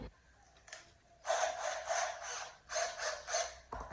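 A jigsaw cuts through a wood plank in short bursts, a buzzing, rasping whine that starts and stops several times, close and moderately loud with quiet gaps between passes.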